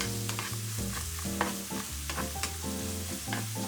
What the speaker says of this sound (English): Let's add the carrots and shiitake mushrooms and cook for 3 to 4 minutes,